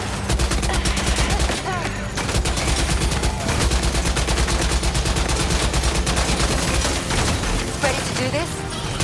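Sustained heavy gunfire from a Death Stranding 2 firefight, dense rapid bursts and automatic fire rolling continuously at close range, with occasional faint voices underneath.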